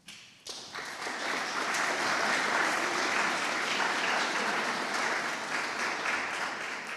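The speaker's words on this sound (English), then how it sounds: "Thanks for your applause." Audience applause at a global symposium starts abruptly, swells within a second, and then rolls on as a full, sustained wash of clapping in a large room before easing slightly near the end.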